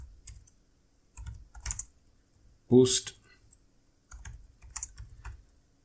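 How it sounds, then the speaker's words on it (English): Laptop keyboard typing in several short bursts of clicky keystrokes, close and moderately loud, separated by pauses, with a brief spoken word in the middle. "Please forgive my typing."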